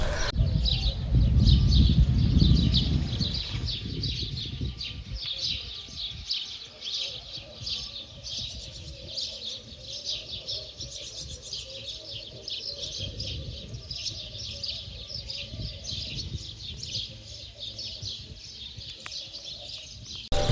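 Dense, steady bird chirping and tweeting fills Al Azhar Park in Cairo, a quiet tree-lined urban park. The calls repeat throughout over a soft background, with a low rumble at the start.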